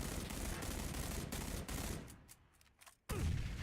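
Rapid automatic gunfire rattles in the battle royale video game PUBG, a dense close burst that thins into a few separate shots before one more loud volley.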